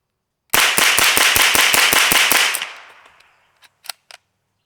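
A suppressed MP5SD fires a rapid burst of ten 115-grain rounds: sharp, evenly spaced cracks that end in a fading mechanical tail, followed by a few quiet metallic clicks.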